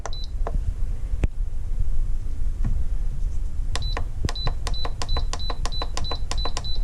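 Instant Pot electric pressure cooker control panel buttons pressed for a pot roast, giving a quick series of short bright beeps, about a dozen in steady rhythm near the end, after a few scattered clicks, close and clear with no talking.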